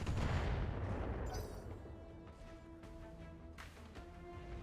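Weapons fire from RogueTech battle mechs strikes a Jenner mech: fairly faint, distant booming shots and impacts, a couple of sharper hits standing out over a low rumbling background.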